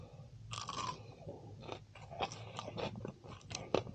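Crunchy bites and chewing of a fried Malaysian banana fritter, close and faint, with a series of crisp cracks and munching sounds over about four seconds and no talking.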